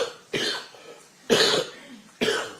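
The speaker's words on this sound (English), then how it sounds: "He's been coughing since yesterday." Three separate dry coughs, evenly spaced about a second apart, close and moderately loud with quiet gaps between them.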